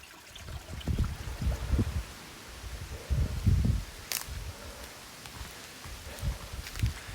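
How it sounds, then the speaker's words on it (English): Rain falling on leaves in woodland during the tail end of the fallow deer rut, soft patters and rustling bursts at close range, fairly quiet with no voices. "It's raining."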